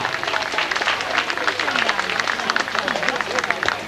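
An outdoor audience at a folk group evening in Sardinia breaks into dense, sustained clapping, a steady crackling wash of many hands with a voice speaking faintly underneath.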